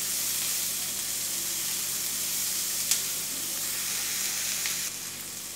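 Capsicum bell peppers sauté in a pan with a steady, close sizzle and hiss, with a faint tap or two of stirring partway through.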